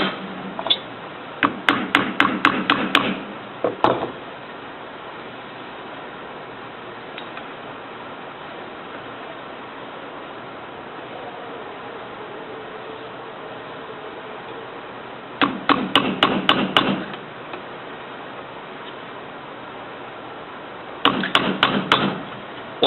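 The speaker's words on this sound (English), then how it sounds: "give it a light tap on the top to help seat the bearing" Quick bursts of light metallic tapping while seating a bearing in a Sioux pneumatic extended metal body grinder during gear set replacement, rapid rattling clusters separated by long quiet stretches with a faint background hiss.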